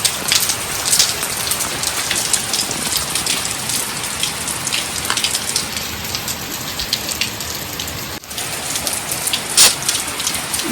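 Steady, dense light rain pours down and patters on a hard surface, with occasional louder drips standing out; no voices.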